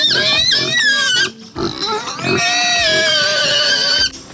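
Several native pigs in a pigpen of about a hundred squeal and grunt loudly and continuously nearby, shrill overlapping cries with brief breaks between bursts.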